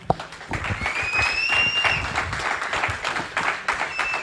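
A church congregation bursts into sustained applause and cheering, with a couple of high whistles, during a French-language sermon.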